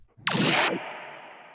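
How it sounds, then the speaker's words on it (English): A single harsh, raspy monster-like scream bursts out loud for about half a second, then trails into a fading reverberant tail. "Just a little zombie scream in this sound"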